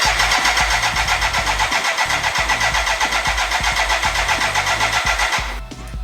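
BMW K100 motorcycle engine on a cafe racer build, cranking repeatedly without catching: a loud, steady rapid chugging of the starter that runs for over five seconds and then drops away near the end.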